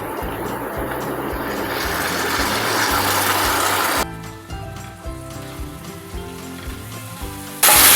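Ginger garlic paste and yogurt sautéing in hot oil for a masoor pulao give a steady, close, rain-like sizzle and crackle that shifts in texture midway, with no talk.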